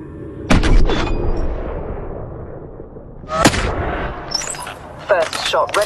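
A sniper rifle shot in Hitman: Sniper fires with a loud, sharp crack, followed by a second heavy shot a few seconds later, then bursts of electronic game sounds and clicks.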